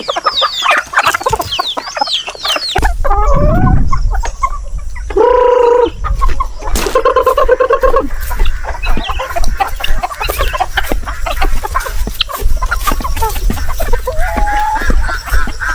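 Native chickens clucking steadily on a Philippine farm, with a loud nearby rooster crowing once partway through and further fowl calls and cackles around it, no talk.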